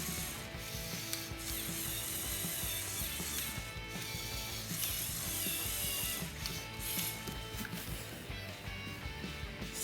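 Lego Technic tow truck toy driving along, its plastic gears and ratcheting mechanism clicking and whirring continuously, close and fairly loud, with no talk.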